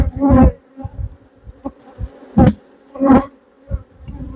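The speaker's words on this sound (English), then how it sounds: "The bees can be buggers, always remember that." Honey bees buzzing around a hive at a quarantine apiary, close and loud, with individual bees droning past in repeated swelling passes over a faint steady hum, no voices.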